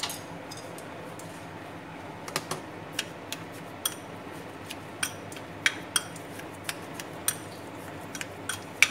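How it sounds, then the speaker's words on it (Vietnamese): Salt pounded and mashed in a bowl gives small, sharp, irregular clicks and taps over a low steady background hum, about one strike a second, close and fairly quiet. "Cho nó đậm đà lên một chút xíu muối thôi ha, mình tán nhuyễn ra."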